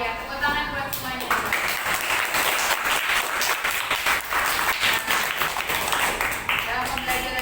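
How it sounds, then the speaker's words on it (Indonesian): Children applaud in a classroom, dense continuous clapping over most of the stretch with some talk at the start and end. "tepuk tangan buat semuanya"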